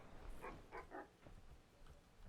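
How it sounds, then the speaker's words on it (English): A dog barks a few times at a distance, faint short yaps spread across the moment, with in-game ambience underneath while playing the online fishing game Webfishing. "Who's barking over there?"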